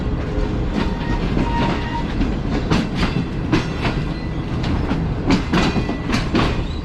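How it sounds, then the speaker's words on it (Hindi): The Shalimar Express pulls away from platform 3 toward the main line, a loud, close rumble of railcars with steady clickety-clack wheel beats over the joints. "प्लेटफॉर्म नंबर 3 को ट्रेन ने छोड़ दिया है और अब आगे बढ़ रही है मेन लाइन की तरफ।"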